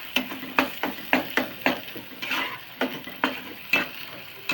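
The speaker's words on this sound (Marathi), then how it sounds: "मसाला आता चांगला परतून घ्यायचा तेलात." Masala frying in hot oil in a kadhai: a rhythmic run of close, regular spoon scrapes and clinks, roughly two per second, over a continuous sizzle.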